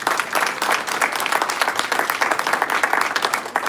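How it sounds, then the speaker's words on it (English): Audience at a fraud and scam prevention seminar gives the police department a round of applause, continuous dense clapping from a crowd, loud and sustained with no speech over it. "Can we give them one more round of applause?"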